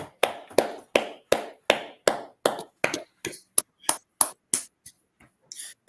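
A single person claps for Officer Adiyar on an online call, sharp, evenly spaced claps close to the microphone at a steady pace that slows and thins out toward the end.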